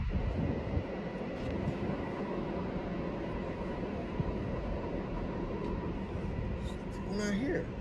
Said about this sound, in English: it's a train again.